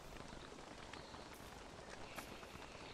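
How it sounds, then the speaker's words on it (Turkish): Steady rain falls in the survival game Don't Starve, a soft, even patter of drops on the ground with faint scattered ticks, quiet and continuous. "Bu yağmurlar iyiye işaret değil."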